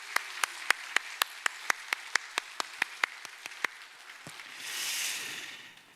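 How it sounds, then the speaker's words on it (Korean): A congregation at a Sunday morning church service claps in steady unison, about fifteen sharp, evenly spaced claps, before the clapping stops and a soft rushing noise swells at the end. "다 같이 한번 박수를 한번 하겠습니다."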